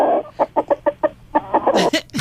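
A rooster offered for sale calls over a radio call-in phone line, giving a loud run of rhythmic clucking bursts that rise into a harsher, higher cry at the end.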